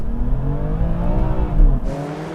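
An Audi RS3, VW Golf R and BMW M2 launch hard off the line in a drag race, with engines roaring and climbing in pitch together, a brief tire chirp, and a loud, close rush of accelerating cars without voices.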